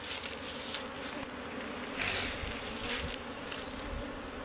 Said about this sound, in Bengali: কিন্তু এই মৌমাছিটা আমরা দেশাল খুদে মৌমাছি বলে